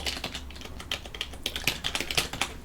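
Quick, uneven clacking of AZERTY computer keyboard keys being typed on, close and clear, with short pauses between bursts of keystrokes.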